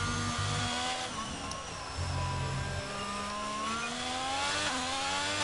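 Race car engines warm up with revving pitches that rise and sweep, several overlapping at a distance among pit and garage noise, with short throttle bursts and a whine climbing toward the end.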